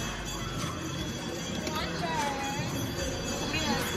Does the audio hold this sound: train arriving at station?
yes